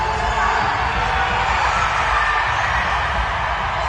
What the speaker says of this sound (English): And everybody's like cheering. The whole crowd goes wild.